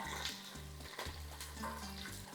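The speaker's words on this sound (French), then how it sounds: "J'ai 2 grosses gousses d'ail. Donc, je vais faire juste revenir un peu." Two large garlic cloves sautéing in hot oil in a pan, a steady close sizzle and crackle with a few soft stirring knocks, no talking.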